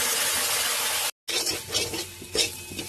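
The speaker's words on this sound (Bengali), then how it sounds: "এবার এই তেলের মধ্যে আমরা দিয়ে দেবো হচ্ছে পেঁয়াজ বাটাটাকে" Onion paste fries in hot oil in a home kitchen, a loud close hiss and sizzle broken by a brief silent cut, then softer sizzling with spoon scrapes and light clinks against the pan.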